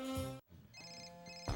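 A mobile phone ringtone chimes in a TV commercial, a short, bright electronic melody heard briefly and clearly with no talk over it.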